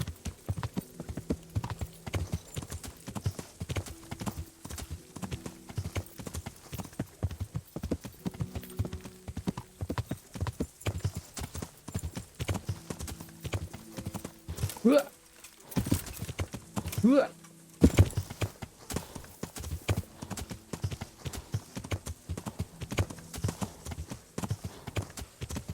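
Hooves of a horse in the video game Kingdom Come: Deliverance clip-clop in a rapid, continuous rhythm throughout, with a couple of whinnies midway and game music under it.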